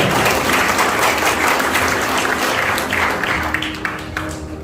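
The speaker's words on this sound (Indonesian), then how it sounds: "Tepuk tangan buat Bapak Ibu." An audience at an Indonesian business seminar bursts into loud, dense applause that fills the room and holds steady, easing off slightly near the end.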